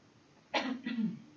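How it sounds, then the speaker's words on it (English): A patient coughs with a cough assist impulse: two quick, close coughs in succession, the second slightly softer, with quiet room tone around them. "I'm going to apply just a quick impulse and we're going to try to get you to cough."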